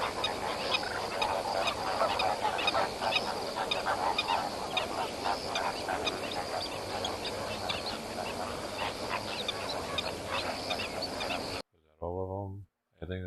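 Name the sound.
ducks honking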